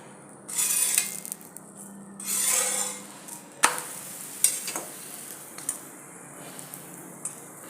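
A potato and wheat-flour paratha frying in oil on a pan sizzles in two swelling bursts, followed by sharp scraping clanks of a spatula and quieter frying in between.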